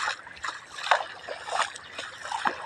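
Floodwater flows over a road and through a pipe after overnight rain in Nong Thep, Surin, Thailand, giving soft irregular trickling and splashing with a few brighter gurgles spread across a short stretch.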